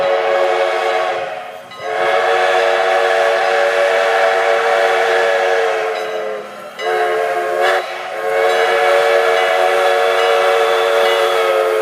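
A train whistle sounds in long, steady blasts outdoors beside a cow field, with a few short breaks between the sustained tones.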